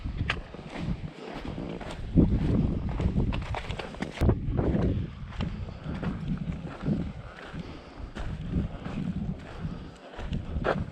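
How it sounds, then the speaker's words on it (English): Strong wind on a mountain trail of the Pacific Crest Trail buffets the microphone in a continuous low roar, swelling and easing in gusts throughout. "Windy, so I apologize right now about the noise."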